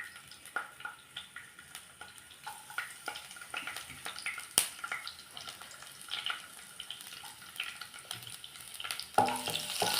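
Red shallots hit hot oil in a pan right after mustard seeds have popped, at the start of a Kerala-style mashithandu curry. A steady, close crackling sizzle runs throughout with scattered sharp pops and a brief clatter near the end.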